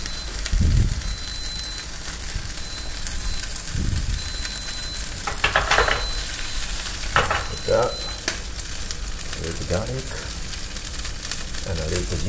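Garlic frying in oil while cooking sushi, a steady sizzle running throughout with a few utensil scrapes and stirring clatters, and voices talking intermittently over it.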